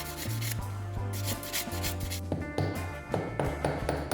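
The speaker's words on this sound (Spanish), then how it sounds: "Sacamos toda la rebaba con un esmeril 600" A wire ring being rubbed with 600 grit abrasive to remove burrs at a jewelry bench, with repeated close scraping strokes and light taps in an uneven rhythm.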